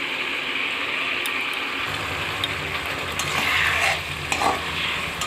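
A vegetarian curry of potato and raw green banana with lentil dumplings bubbles in a pan, a continuous soft sizzle and simmer with occasional light stirring scrapes growing slightly louder toward the end.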